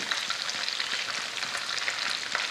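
Chicken tandoori sticks deep-frying in oil, a continuous soft crackle and bubbling sizzle at a moderate, close level with no pauses.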